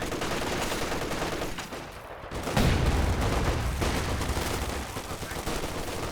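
Machine gun fire in Company of Heroes 2, a World War II strategy game, rattling steadily through the whole stretch amid other gunfire and battle noise, swelling louder midway.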